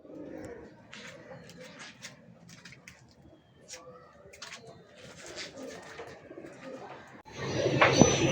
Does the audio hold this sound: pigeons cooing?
yes